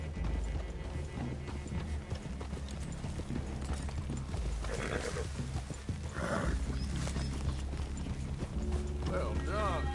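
Horses walking in a wooded clearing, hooves clip-clopping at a steady unhurried pace under ongoing talk, with faint creaks of tack and a low rumbling background.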